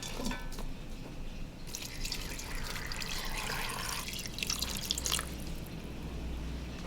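Water pours steadily into an Instant Pot for galbitang, beef short rib soup with sliced onion and daikon, a soft, close trickling splash that swells and fades over several seconds.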